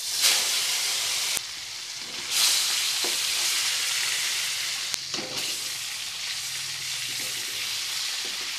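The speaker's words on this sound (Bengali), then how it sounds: "মিডিয়াম হিটে মাছ ভেজে নেব" Pieces of katla fish fry in hot mustard oil sprinkled with salt over medium heat, giving a steady close sizzle with crackling bursts and occasional clicks of a utensil.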